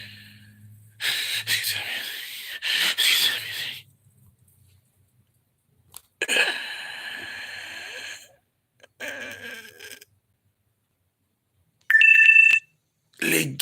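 A phone ringtone plays in short bursts of bright, tonal chiming, separated by silent gaps, with a gasp and breathing heard close by.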